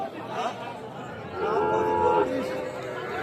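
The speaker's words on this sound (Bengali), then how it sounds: "এই পাশে দেখছি আমি ষাঁড় বাচ্চাগুলা" Young cattle calves at a rural livestock market, one drawn-out moo lasting about a second in the middle, amid steady crowd chatter and nearby talk.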